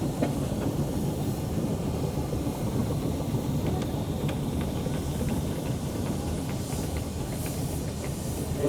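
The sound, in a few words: steam engines passing at a steam rally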